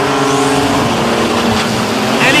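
Nissan GT-R drag race cars launching down the strip at a DCT World Cup drag event: a loud, continuous engine roar with high revving that stays strong for the whole stretch.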